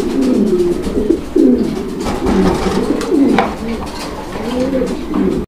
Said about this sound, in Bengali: এইটা লাহোরি কবুতর একটা জোড়া